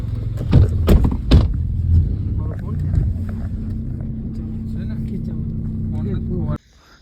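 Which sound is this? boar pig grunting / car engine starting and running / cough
car engine starting and running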